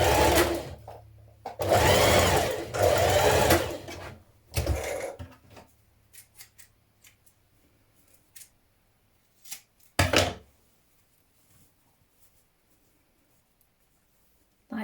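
A sewing machine stitches down the side seam of a spring dress in two long, loud runs, then a few short bursts and quiet handling noises, with no one talking.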